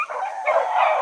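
Rabbit-hunting dogs, including a small one named Gracie, give a burst of high yipping barks and whines that blur together, close and fairly loud.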